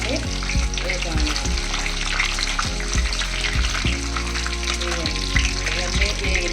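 Whole biryani spices, including nutmeg, kasuri methi and cashews, fry in hot oil for chicken biryani with a loud, close crackling sizzle over a steady low hum.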